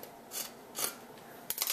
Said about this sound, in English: get my scissors out, and we are going to cut this off.